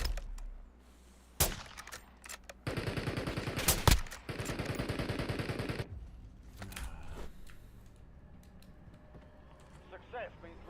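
Rapid automatic fire from an XM4 rifle with a short barrel in a shooting video game, loud bursts of sustained gunfire with sharp single reports before, fading into quieter game ambience and voices afterward.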